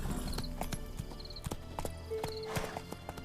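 A horse's hooves clip-clop at a steady trotting rhythm in the video game The Witcher 3: Wild Hunt, close and clear over game ambience with faint tonal effects.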